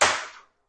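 A single sharp air rifle shot, from either an X.68 fitted with a tuning chamber or an Intrubuster with a 6-inch barrel, cracks close and loud and then fades quickly into silence.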